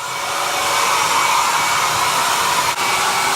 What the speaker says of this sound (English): I'm gonna go get a blow dryer